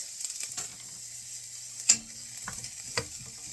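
Two shallots sautéing in hot oil for tomato basil soup, a steady gentle sizzle with a few sharp spatula scrapes and pops, close and fairly quiet.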